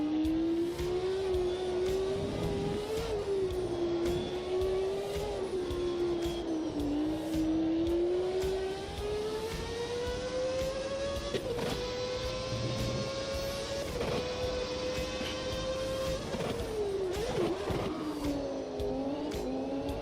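A racing car in a sim racing game, its engine holding a steady, rising and falling drone through corners, with occasional downshift blips and faint tyre noise from the overheated rear tyres, loud and continuous with no speech.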